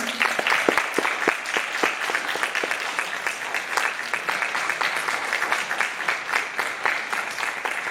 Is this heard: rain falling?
no